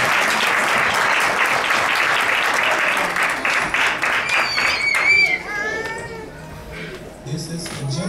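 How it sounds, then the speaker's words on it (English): A church congregation claps for youth singers, broad steady applause filling the first five seconds before fading into a quieter room with scattered sounds and faint voices. "Why don't you clap your hands for them?"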